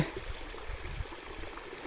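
Water from a flooded rice paddy in the Thai countryside pours out through a gap in the earthen bank, making a faint, steady rushing and gurgling.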